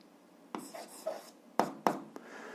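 Chalk or pen writes out an algebra solution in short scratchy strokes, with several sharp taps and pauses between marks, close and quiet.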